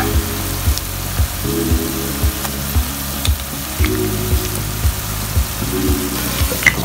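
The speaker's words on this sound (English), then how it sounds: "this is the time that we add the ginger garlic paste" Ginger garlic paste sizzling with onions in a frying pan for keema curry, a steady loud fry hiss with regular clacks of a spoon stirring the pan throughout.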